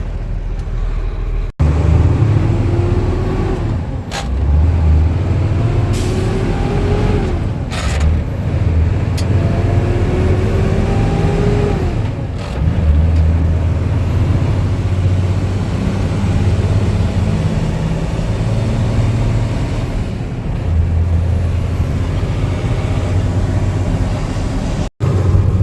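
Dump truck cruising down the road at the speed limit, a steady low engine drone with gear-shift swells and tyre rumble throughout, loud and close from inside the cab.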